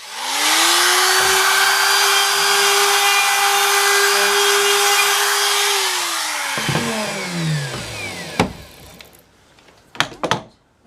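A wood router whines loudly at a steady pitch while rounding over a rough wooden edge, then spins down to a stop, followed by a few sharp clunks.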